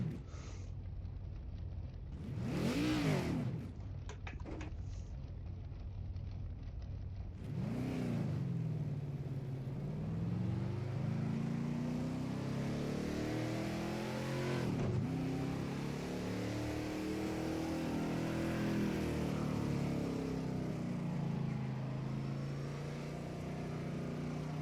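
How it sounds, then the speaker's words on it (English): In Project Cars 2, a car engine blips sharply on heel-toe downshifts, two quick revs early, then a longer climb and sustained drone under braking and acceleration, fairly quiet overall. "Clutch goes down into second. Blip. Release the clutch. Blip."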